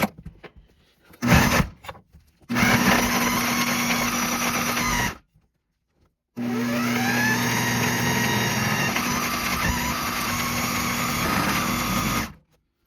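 A blender chops fibrous jewelweed stems for a salve. A few quick pulses are followed by two longer, loud runs of a whirring motor and blade grinding, separated by a short silence.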